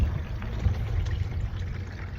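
Thin sheet of water mixed with jet dry flowing over a miller table while highbanking coarse gravel in Alberta, a steady low trickling wash with faint splashy texture throughout.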